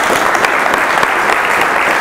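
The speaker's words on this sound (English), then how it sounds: "I'd like you to give them a round of applause." A large audience claps together in a steady, dense round of applause at a community Software Freedom Day event, the sound filling the room evenly with no voices standing out.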